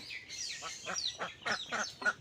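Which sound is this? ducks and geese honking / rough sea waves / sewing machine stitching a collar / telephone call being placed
ducks and geese honking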